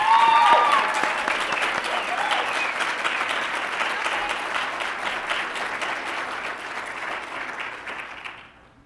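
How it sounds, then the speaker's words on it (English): A ceremony audience applauds the finalists at a student employee of the year awards event, a dense, steady wash of many hands clapping that holds for several seconds and then stops abruptly. "can we get a big round of applause for all of our finalists here?"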